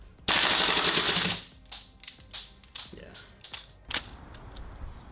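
A Tokyo Marui M4 MWS gas blowback airsoft rifle empties a 35-round magazine, opening with a loud, sustained rapid-fire burst, then a string of sharp single shots with short gaps, all close to the microphone.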